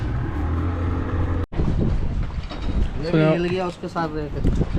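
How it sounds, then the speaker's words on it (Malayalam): A boat's motor and wind roar steadily on the river at Rishikesh, with a brief dropout partway through, and people talk over the engine noise. "അവിടെ നിന്ന് ബോട്ട് ആളെടുക്കുന്നുണ്ട്."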